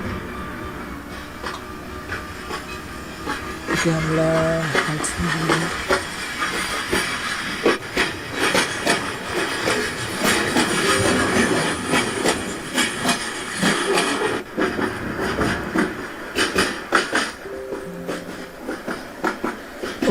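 A passenger train in the Train Simulator Bangladesh game runs through a night scene after leaving Chittagong station, with a steady rolling rumble, hissing and rhythmic clatter throughout, while someone talks briefly over it.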